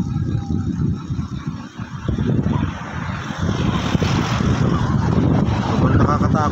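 Strong gusts buffet the microphone at the edge of a deep drop, a loud continuous low roar that swells and surges throughout, nearly drowning out everything else.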